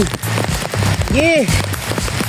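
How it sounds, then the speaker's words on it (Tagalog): Rain falls steadily on surfaces during an uphill bicycle ride toward Kawayang Cove in Nasugbu, a continuous patter with a voice and a short whistle-like sweep heard over it. "Ulan."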